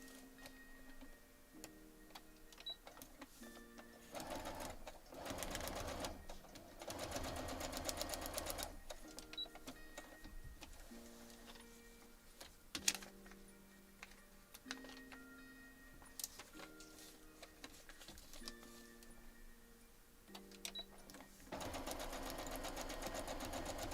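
A sewing machine stitches a foundation paper pieced quilt block in several bursts of close, rapid mechanical whirring, broken by short pauses and faint handling clicks.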